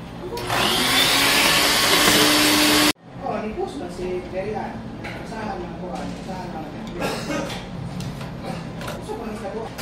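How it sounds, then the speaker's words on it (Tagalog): A vacuum cleaner runs steadily and loudly for about two seconds while cleaning inside an HP Smart Tank 515 printer, then cuts off abruptly, after which quieter handling sounds and speech follow. "Ang gagawin ko lang is mag-vacuum tayo"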